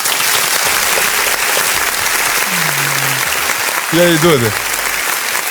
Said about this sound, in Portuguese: Uma salva de palmas pro Danilo Lopes aí